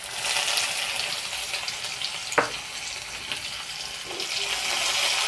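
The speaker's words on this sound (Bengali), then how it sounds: "এখন দিয়ে দেবো পেঁয়াজ কুচি।" Chopped onion sizzling in hot oil with whole cumin and asafoetida tempering, a steady broadband frying hiss running throughout with one sharp clink from the pan partway through.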